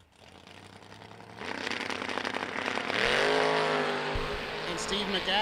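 A Chevy II and a first-gen Camaro launch down a drag strip, engines roaring louder and rising in pitch as they pull away, with an announcer talking over the noise.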